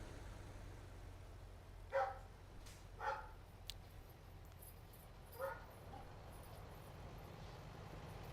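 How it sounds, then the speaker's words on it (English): Three short barks from pet dogs Leo and Boots at play, faint and distant, spaced a second or two apart over a low steady room hum. "I don't know if you can hear my dogs barking in the background."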